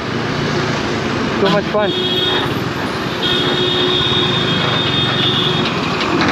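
A KTM Duke 390 motorcycle engine drones loudly and steadily while riding, mixed with heavy wind rush, as the rider talks briefly over the noise.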